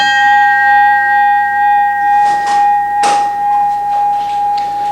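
U.S. Navy ship's bell with a clear, beautiful tone, heard as a steady sustained ring with long-lasting overtones, plus a few faint knocks or handling noises partway through.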